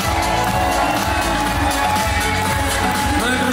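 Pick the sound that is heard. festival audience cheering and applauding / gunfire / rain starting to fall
festival audience cheering and applauding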